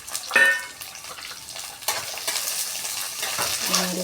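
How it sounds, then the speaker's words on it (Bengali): Garlic and ginger frying in hot oil in a pan, a steady close sizzle with a sharp burst of crackle at the start and occasional utensil scrapes, no talking. "আমি এগুলো একটু ভেজে নিয়ে পেস্ট করে নেবো"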